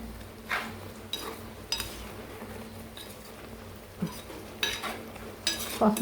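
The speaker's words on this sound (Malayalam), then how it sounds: "നമുക്കൊന്നുകൂടെ ഒന്ന് ഇളക്കിയിട്ട് കൊടുക്കാമേ" A spoon stirs dried stingray curry with raw mango and drumstick in a cooking pot, making scraping, clinking strokes at irregular intervals over a low background bubble.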